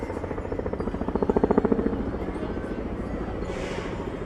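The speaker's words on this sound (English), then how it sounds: "As the sound of choppers buzz overhead." Helicopters circling over downtown Toronto on World Series night, a rhythmic rotor thumping that swells louder then holds steady overhead, with faint city noise beneath.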